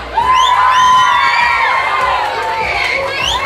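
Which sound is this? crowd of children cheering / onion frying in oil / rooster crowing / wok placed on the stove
crowd of children cheering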